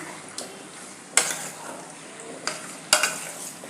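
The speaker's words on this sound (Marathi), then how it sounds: "असं तेलात व्यवस्थित मटण परतल्यावर छान लागतं त्यामुळं असं व्यवस्थित परतायचं आहे" Mutton is stirred and sautéed in oil in a pan, a quiet sizzle broken by several sharp scraping strokes of a spoon against the vessel.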